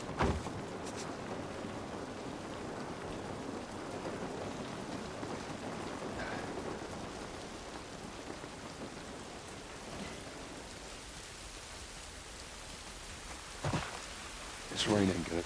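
Steady rain falls outdoors in the game The Last of Us Part 1, a continuous hiss with occasional rumbles and a few louder transient sounds near the end.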